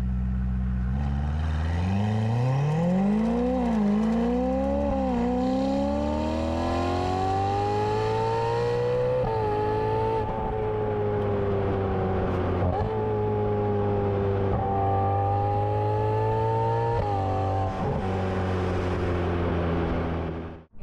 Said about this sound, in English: this car is fitted with a Kline exhaust